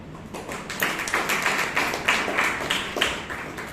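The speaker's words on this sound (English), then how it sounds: "let us give a good round of applause" Audience applause at a Toastmasters meeting in Bangalore honoring the VP Education, a steady run of dense clapping from a room of people, moderately loud and continuing throughout.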